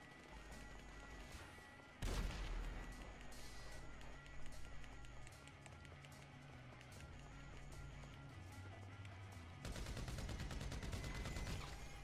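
Grand Theft Auto V gunfire, loud bursts of shots around two seconds and again near the ten-second mark, against busy game noise, running sounds and intermittent talking.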